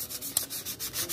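Sandpaper rubs dry by hand over an epoxy-coated motorcycle engine, a Suzuki Satria FU, in short rhythmic scratchy strokes, close and fairly quiet, with no talking.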